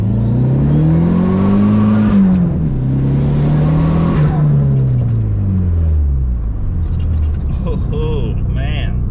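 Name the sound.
Dodge car engine revving, allegedly 400 horsepower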